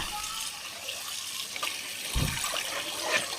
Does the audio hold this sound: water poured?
yes